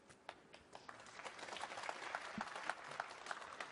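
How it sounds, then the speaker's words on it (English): A snooker crowd at a professional semi-final applauds with steady, moderately loud clapping that builds and holds, heard from within the arena. "Well, applause"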